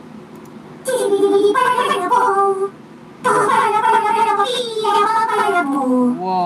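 A mid-tier stream gift alert plays two loud bursts of warbling, cat-like electronic tones close up, separated by a short gap, with a brief spoken exclamation.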